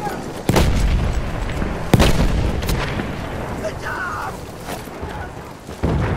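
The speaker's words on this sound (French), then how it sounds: "Attention! Grenade!" Grenade explosions in the Battlefield 1 video game: a few sharp, loud blasts roughly a second or more apart, ringing out over a steady din of battle noise.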